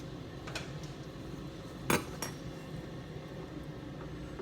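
Cooked peppers are moved onto a plate with faint clinks of utensil against dishware, one sharper metallic tap standing out over a low steady room hum.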